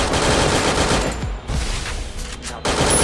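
Rapid automatic gunfire in the battle game Free Fire, loud close bursts of machine-gun shots that thin out midway, pause briefly, then resume at full volume.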